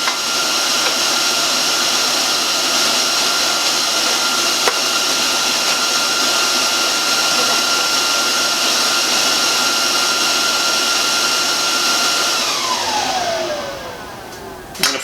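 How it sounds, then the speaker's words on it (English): An angle grinder cuts a bevel along the edge of a steel plate ahead of welding, holding a steady, loud whine throughout before the motor spins down with a falling pitch near the end. "Now I ground the bevel on the edge of the steel where I'm going to weld"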